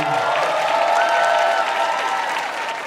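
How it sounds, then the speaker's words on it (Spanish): Concert audience applauding at a Danny Ocean show on the Millennium Stage, a loud sustained wash of clapping with a tonal music or feedback hum underneath and light cheering mixed in. "Por favor, un aplauso para Mauri y para Jim."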